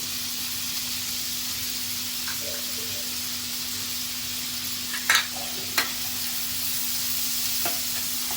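Asafoetida hits hot oil for tempering, giving a steady close sizzle and hiss with a couple of sharp clinks of a spoon against the pan partway through.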